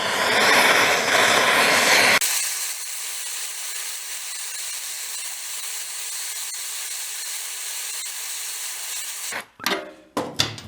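Torch flame roaring steadily as it heats seized stove bolts on a Simplicity 1250 snow blower, a loud hiss at first that settles into a constant lower rush, with clattering handling noises near the end.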